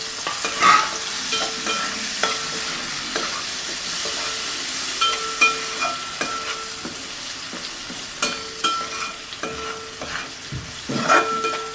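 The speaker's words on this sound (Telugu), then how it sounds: "ఇవన్నీ మంచిగా వేగిపోయాయి, ఉల్లిపాయలు పచ్చిమిరపకాయలు మెంతాకు చూతురండి. ఈ టైంలో ఈ ఎండి చేపలు వేసేసుకోవాలి." Dried fish tossed into a pan of fried onions, green chilies and fenugreek leaves, with steady close sizzling broken by repeated scraping stirs and spatula knocks, no voices.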